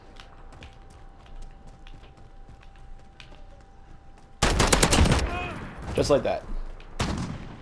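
FAL rifle fired from the hip in the video game Modern Warfare: a dense, loud burst of close shots in the middle, a brief pause, then another short burst, after a stretch of quiet background with brief talk.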